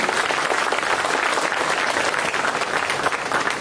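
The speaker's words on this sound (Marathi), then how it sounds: "प्लीज टाळ्यांचा गडगडा ठेवूया" Sustained, dense applause from an audience honouring a medical officer at an Independence Day ceremony, steady and loud throughout with no pauses.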